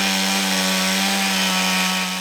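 A chainsaw carves a large piece of wood, its engine whining loud and steady up close for the whole stretch, with no speech.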